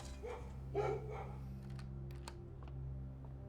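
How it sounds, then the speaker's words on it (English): Puppies yapping next door in the game Blue Prince, a few short muffled yips early on over a low steady hum, followed by some faint clicks, with no one talking. "Puppies are next door."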